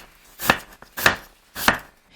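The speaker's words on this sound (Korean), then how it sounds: "야채는 여러분들이 원하시는 크기로 썰면 돼요" A kitchen knife chops vegetables on a board for curry, three distinct separate thuds spaced about half a second apart, close and clear with quiet gaps between.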